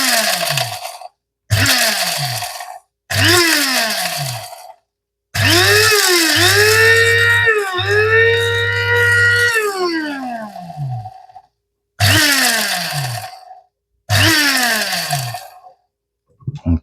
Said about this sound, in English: it won't probably come into contact with the chilies until they start going to the bottom of the grinder.